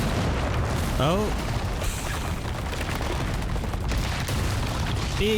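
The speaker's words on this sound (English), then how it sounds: "Big explosion, big" A big explosion in the Resident Evil 4 video game rolls out as a low, sustained rumbling boom, with a voice briefly heard over it.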